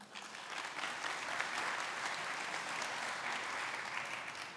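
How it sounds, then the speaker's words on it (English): Faint, steady applause from a conference audience welcoming two presenters, an even wash of many hands clapping that holds for several seconds without talk. "please give a warm round of applause for Mark and Warren."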